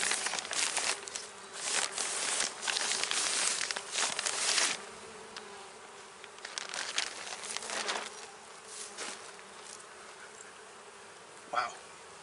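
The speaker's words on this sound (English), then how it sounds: "Wow, good number of bees, good looking bees" Honey bees buzz around an open hive during an inspection, a dense close droning hum rising and falling in swells with brief louder passes near the mic, no talk.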